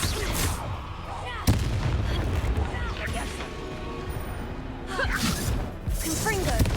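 A spell explosion in the Hogwarts Legacy video game, a sharp sudden boom that cuts through ongoing combat noise and music, with a voice speaking around it.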